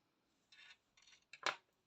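Scissors snip crochet yarn at the end of a piece: a few short, quiet, crisp cuts close by, the last snip sharper and louder.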